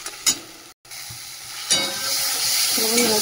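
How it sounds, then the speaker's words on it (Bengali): Masala with chili and tomato paste fries in a pan, a steady sizzle broken by a short gap and a few sharp utensil knocks, building to a fuller hiss, close up and without speech. "মশলাটা ভালো করে কষিয়ে নিয়ে জল দিয়ে দেবো"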